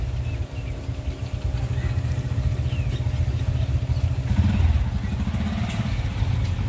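A motorcycle rides along a village road near Massanjore dam. Its engine drones loud and steady right up close, with a rattling rumble that swells briefly midway.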